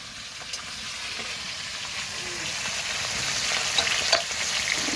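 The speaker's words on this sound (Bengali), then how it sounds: "এবার মাছগুলো ভাজা হতে থাকবে।" Rohu fish sizzle steadily as they fry in hot oil in a wok. The crackle is quiet and even, with no voices.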